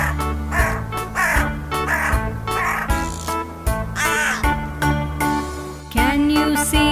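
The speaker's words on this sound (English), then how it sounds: "Can you hear the black crow?" A black crow caws loudly and repeatedly close by, a series of harsh calls with short gaps between them and no talking.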